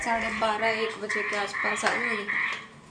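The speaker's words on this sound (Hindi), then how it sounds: "और देखो मेंढक की आवाज़ आ रही है" Frogs croak in a steady outdoor chorus after night rain while someone talks over them close by in Hindi.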